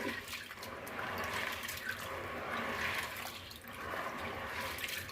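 Dal being washed in water for dal makhani, giving a steady close splashing and running-water wash that stays at an even level throughout, with no voices.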